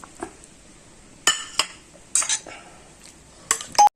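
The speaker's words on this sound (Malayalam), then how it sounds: "നമ്മൾ എടുത്തു വെച്ചിരിക്കുന്ന ഉരുളക്കിഴങ്ങ് അതിനകത്തോട്ട് ഇടാം" Potatoes go into a pan of potato yogurt curry with a few clattering bursts of metal utensil against cookware, separated by near silence.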